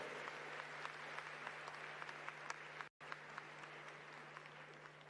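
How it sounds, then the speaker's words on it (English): A large audience applauds at a climate summit, a steady faint wash of clapping with a constant low hum beneath and a momentary dropout partway through. "Let's give them a warmer round of applause."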